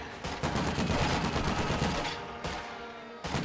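Sustained gunfire from a Company of Heroes 2 multiplayer match with Wehrmacht and OKW against US and Soviet forces: dense, continuous volleys of shots crackling throughout, with brief dips before the firing resumes at full loudness.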